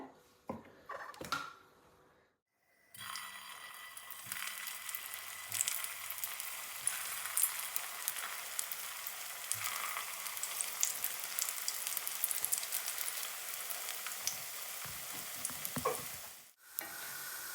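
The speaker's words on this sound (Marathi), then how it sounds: "आता आपण हे फ्राय करून घेऊयात" Potato balls frying in hot oil give a steady, bright sizzle that runs for most of the clip. A few handling clatters come before it and a short pause near the end.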